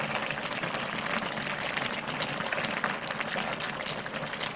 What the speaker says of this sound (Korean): 보글보글 맛있게 졸여지고 있어요.